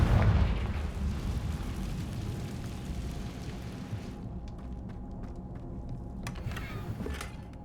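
A Confringo spell blast in Hogwarts Legacy: a loud, booming explosion at the start that rolls off into a long crackling, rumbling decay, with a couple of sharp pops near the end.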